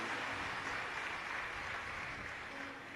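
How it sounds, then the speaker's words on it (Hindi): Dense, sustained applause from a large crowd at a Shiv Mahapuran katha gathering in Dantewada honouring Deven Tekam, a steady wash of clapping heard from a distance, easing only slightly near the end. "उनके लिए एक बार जोरदार ताली बजाकर साधुवाद"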